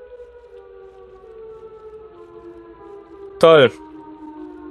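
Siren Head's siren in a horror video game sounds once as a loud, brief, harmonic wailing blast that bends downward, standing out above a steady droning game ambience; someone speaks quietly in the background.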